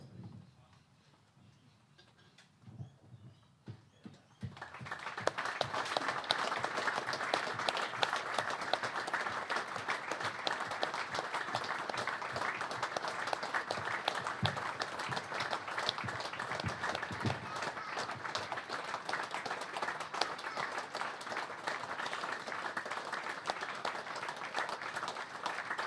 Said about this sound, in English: I'll now ask everybody to be upstanding for a minute's applause, please.